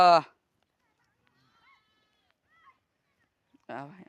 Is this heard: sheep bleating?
yes